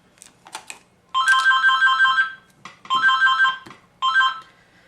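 A telephone rings indoors, loud and close, with repeated electronic trilling bursts separated by short pauses, some faint clicks before the first ring.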